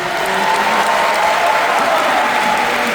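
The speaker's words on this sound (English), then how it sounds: "can we give a hand and a round of applause for" Audience applause at a Disney D23 fan event, a dense and steady clapping crowd that holds loud and even for the whole stretch with no talk over it.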